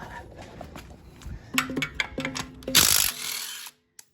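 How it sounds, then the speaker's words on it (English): An impact wrench works on engine bolts during a Honda Accord JDM K24 engine swap, giving bursts of mechanical rattling and whirring with stepped tones, then a louder hammering burst that cuts off abruptly. "I should be able to get the rest with the impact."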